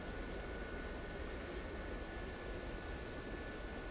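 A Gazelle helicopter in the DCS flight simulator drones with a steady, loud turbine and rotor roar that holds constant throughout, with no talking.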